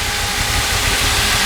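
A 1966 Ford Fairlane's believed-original 390 cubic-inch four-barrel V8 idles steadily, a continuous low rumble with broadband hiss, close and loud without talk.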